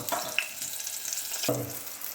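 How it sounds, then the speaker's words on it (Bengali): Eggplant slices frying in oil in a pan for a vegetarian potato-eggplant paturi, giving a steady close sizzle with a brief louder crackle partway through, no talk. "এবার আমি বেগুনটা দিয়ে দেবো বেগুনটা ভাজি দিয়ে দেবো"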